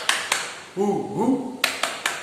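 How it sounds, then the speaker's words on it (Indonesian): A school class does a rhythmic spirit clap: a few sharp, separated claps in a pattern, with a brief stretch of children's voices between the clap groups. "Kita bertepuk semangat, atau kita mulai dengan tepuk semangat"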